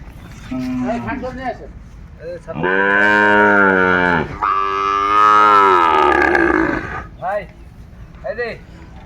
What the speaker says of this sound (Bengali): গরুগুলো।